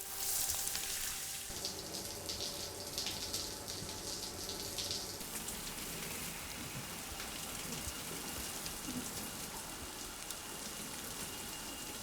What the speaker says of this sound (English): First things first, shower.